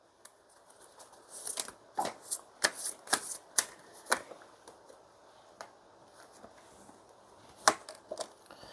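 Tarot cards shuffled and drawn by hand, a run of crisp riffling flutters and snapping card slaps with short pauses between, close and fairly quiet.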